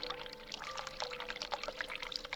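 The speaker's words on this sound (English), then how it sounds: "Turn on hot water. It's already running." Hot water runs from a tap in The Cat Lady game, a steady close pouring stream with bubbly splashing throughout.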